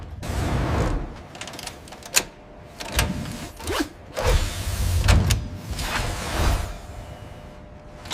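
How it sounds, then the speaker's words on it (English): Hydraulic clamps lock a Sarmat ICBM into its silo emplacement, heard as a string of mechanical whirs, clunks and sharp metallic latching hits over a low rumbling bed, with no voices. "Hydraulic clamps lock the missile into place"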